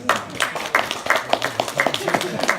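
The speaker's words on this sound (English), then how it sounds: "Give you a round of applause, I think." A small audience at a psychic weekend event in Weymouth gives a short round of clapping, close and uneven, with talking over the claps.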